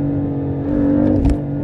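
A BMW M4 rated at 550 HP roars through a steady, loud exhaust drone that builds slightly as the car accelerates, with a brief rise near the end; no one speaks.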